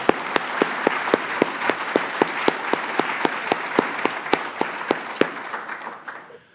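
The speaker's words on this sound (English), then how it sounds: "how about a round of applause for that?" Audience applause at an alumni leadership conference, a dense steady wash of many hands with sharp individual claps standing out, sustained for about six seconds before tapering off.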